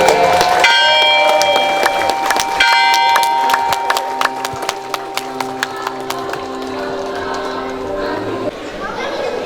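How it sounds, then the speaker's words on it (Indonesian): A church tower bell rings at the inauguration of a church bell tower, with loud, struck, ringing tones repeating in a steady rhythm while a crowd chatters in the background. "Sabar, pembunyian lonceng."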